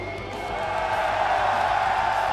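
An esports crowd at the BLAST Rainbow Six Munich Major cheers in a steady, loud, sustained roar filling a large arena.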